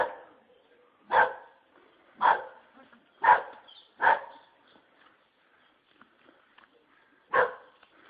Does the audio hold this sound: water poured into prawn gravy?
no